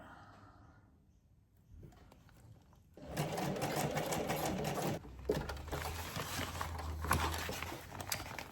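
Sewing machine zigzag-stitching a cable bag, a near, rapid mechanical rattle that starts after a few quiet seconds and keeps running steadily to the end.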